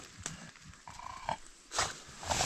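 Dogs in a forest give a few short barks spread across a couple of seconds, moderately close, over a rustling outdoor background.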